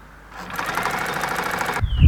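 A sewing machine runs steadily for about a second and a half, stitching along the V neckline of a men's shirt being refashioned into a camisole, then stops with a thump of handling.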